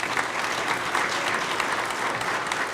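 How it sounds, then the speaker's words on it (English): An audience in a church hall keeps up steady, dense applause for a men's choir. The clapping is sustained and even at close range, with no voices over it. "Give the men's choir a round of applause again."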